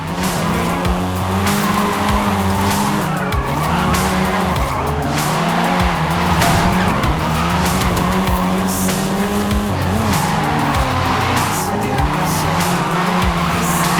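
A seventh-generation Volkswagen Golf R in Forza Horizon 5, its engine droning loud and close while the tires squeal and skid almost continuously, with the engine pitch rising and falling as it slides through corners.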